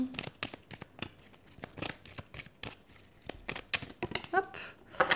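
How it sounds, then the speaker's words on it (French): Deck of tarot cards shuffled by hand, a rapid series of soft riffling slaps and flicks close up, uneven in rhythm and fairly quiet. "Je vais continuer de battre un peu les cartes."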